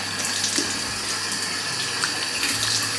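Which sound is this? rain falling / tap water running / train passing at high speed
tap water running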